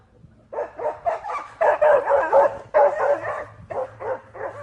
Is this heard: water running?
no